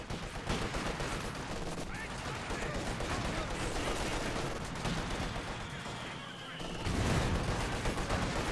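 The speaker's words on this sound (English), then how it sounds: "Guards do take a pretty nasty volley there" Rifle volleys and scattered gunfire crackle through a busy Company of Heroes 2 battle, with dense overlapping shots and a louder burst near the end, steady throughout the clip.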